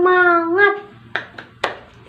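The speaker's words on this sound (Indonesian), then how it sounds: "yuk kita tepuk semangat lagi yuk" In an elementary classroom, a teacher's voice sings out a spirited chant, then three sharp, close hand claps follow at uneven intervals.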